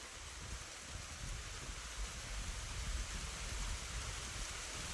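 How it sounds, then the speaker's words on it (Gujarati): Rain falls steadily at a Gujarati village farm, a continuous dense hiss of drops that stays even and moderately loud throughout, with no voices. "વરસાદ આવ્યો છે"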